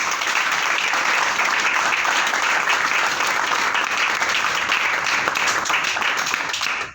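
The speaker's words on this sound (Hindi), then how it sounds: "इस इंडस्ट्री के लिए एक बार जोरदार तालियां दे दीजिए" A large audience at a direct selling business meeting bursts into loud, sustained applause, a dense wash of clapping that holds steady for several seconds before cutting off abruptly.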